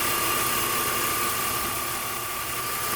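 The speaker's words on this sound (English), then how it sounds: "I'm gonna switch off all the bits, just leave the engine running." BMW E46 M3 engine idling with a suspected alternator whine, a steady even hum with a thin constant whistle riding over it, close and continuous.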